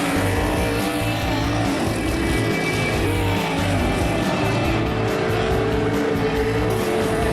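Sprint cars racing in a heat race on a dirt track, engines roaring loud and continuous throughout with a steady droning blur of several machines close by, no talk.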